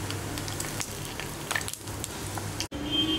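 Cumin and fennel seeds fry in hot oil for a chicken liver curry, giving a steady close sizzle and crackle with light stirring, running throughout without speech.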